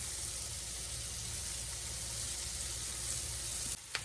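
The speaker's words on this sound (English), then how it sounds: "saute on them, a little bit light. Because everything else is ready. Okay, I'm going to stir them around." Food sautéing in a pan sizzles with a continuous loud close hiss, ending in a brief utensil clatter as it is stirred; no one talks.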